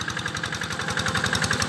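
A tractor engine runs in a rice field, throbbing in a fast, even, knocking rhythm at fairly close range, steady and loud with no voices.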